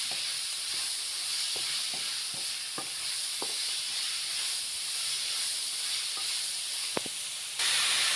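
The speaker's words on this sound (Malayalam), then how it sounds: "നന്നായി ഇളക്കുക." Snake gourd curry is stirred in a hot pan under a steady, even sizzle and hiss. A spoon knocks and scrapes now and then, with one sharper clack near the end.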